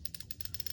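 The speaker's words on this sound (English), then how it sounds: "that's the clicker for the drag" Drag clicker on a Zebco Omega spincast fishing reel ratchets out in about a dozen quick, evenly spaced clicks, close up and crisp with nothing else around it.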